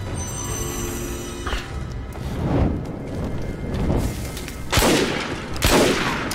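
Pistol gunfire in Lara Croft and the Temple of Osiris, rapid loud shots mixed with crashing impacts and booming bursts, dense and chaotic with the loudest blasts near the end.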